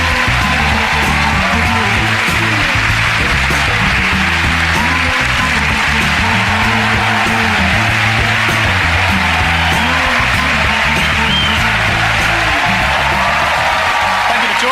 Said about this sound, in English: Everyone else will give you a huge round of applause